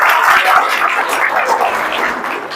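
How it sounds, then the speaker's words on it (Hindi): Students in a classroom clap for three classmates, a dense steady patter of many hands at close range that holds evenly throughout without speech over it. "इन तीनों बच्चों के लिए तालियां बजाइए"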